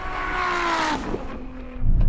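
A Ferrari SF90 and a 1000hp Nissan GT-R drag race, with a loud, rising engine note and gear changes, a brief dip, then a louder close roar at the end.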